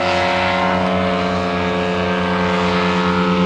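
Model Extra 330 aerobatic aircraft engines droning steadily and evenly at an outdoor model flying meet, a continuous buzzing tone with no talk.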